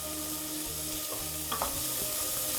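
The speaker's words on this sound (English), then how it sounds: "let this cook down until the onions are translucent" Onions sauté in a pan as the base of a minestrone soup, a steady close sizzle with a couple of light stirring knocks and no talking.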